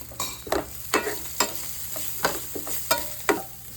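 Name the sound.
sautéing spices in oil for eggplant curry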